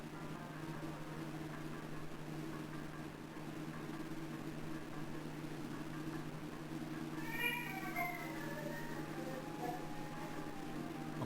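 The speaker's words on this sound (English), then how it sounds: "Okay, it sounds like a cat," Meowing from a cat in the Home Safety Hotline game, a short series of close, wavering calls in the second half over a steady electrical hum and background hiss.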